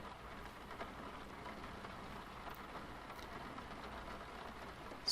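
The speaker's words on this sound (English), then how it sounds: "Hopefully, the rain clears up soon" Soft rain falling outside a tent at a campsite, a faint, steady patter and hiss heard from inside, continuous and quiet with no talking.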